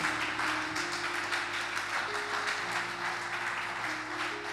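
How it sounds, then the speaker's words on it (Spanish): A church congregation gives a sustained round of applause, dense and steady throughout, with a held organ or keyboard chord sounding underneath. "dale un fuerte aplauso al Señor."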